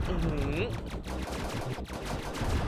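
An enemy gun firing rapidly in the clay-animated shooter game Platypus Reclayed: loud, fast, continuous bursts of gunfire, with a brief whistling tone near the start.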